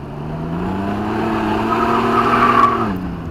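A 2022 Can-Am Ryker Sport drifts around a corner on dry pavement, its engine holding a steady droning rev that rises slightly while the tires hiss and squeal, then the revs drop at the end.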